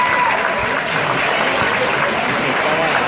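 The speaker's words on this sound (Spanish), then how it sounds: "Quizá un aplauso más fuerte las anime." Audience at a Miss Hooters pageant in Mexico applauding loudly, a dense, sustained roar of clapping with cheering and crowd voices mixed in, holding steady from start to finish.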